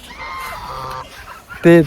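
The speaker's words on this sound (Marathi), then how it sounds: "आणि इथे बदक पण आहे" Ducks at an ashram in Amravati give a short, loud, honking quack near the end, after a stretch of soft background sounds.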